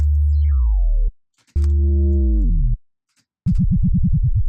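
A synth tone sweeps downward, then holds a chord that bends, and finally a low tone wobbles rapidly up and down in pitch, loud and clean.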